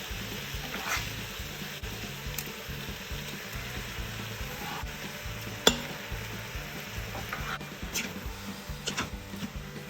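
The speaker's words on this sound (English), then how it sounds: "we'll give it a few quick stirs just to make sure it's nicely evenly mixed and all broken up" Ground beef stirred and seared in an Instant Pot for Texas chili, a steady low sizzle with soft scraping stir strokes repeating through, one sharper clack midway, no talking.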